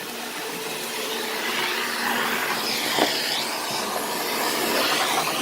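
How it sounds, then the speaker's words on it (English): Vacuum cleaner fitted with its regular attachment, cleaning a moldy shower during heavy-duty house cleaning; a steady, close, continuous hissing whine that holds level for the whole stretch, with a brief bump in the middle. "after that we vacuum with the regular attachment"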